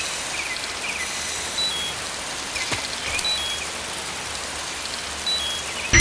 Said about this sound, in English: I see it started to rain.